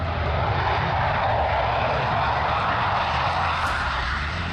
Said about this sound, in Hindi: लेकिन जब बारी आई भारत के स्वदेशी लड़ाकू विमान तेजस की